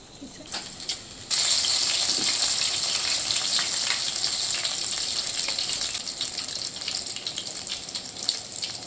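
Garelu, plain lentil fritters, dropped into hot oil: a quiet start, then a sudden loud burst of bubbling sizzle that holds steady and close for several seconds.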